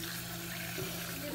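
Tap water runs steadily while rice is rinsed clean in a home kitchen, a continuous close wash of flowing water.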